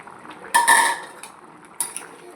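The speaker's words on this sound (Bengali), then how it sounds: "এবার আমি ঢাকা খুলে এই দেখুন ভাজা ডিমগুলো আমি এর মধ্যে অ্যাড করে দেব।" Fried eggs dropped into a simmering red egg gravy in a pan, one clattering clink of metal on the pan followed by a lighter second knock, close and fairly quiet over faint background.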